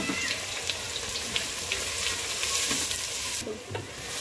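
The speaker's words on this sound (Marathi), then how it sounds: "कांदे टाकून घेऊया आणि छानपैकी गोल्डन होऊन घेऊया" Onions fry in oil until golden, giving a dense, steady sizzle with occasional scrapes of stirring, loud and close throughout.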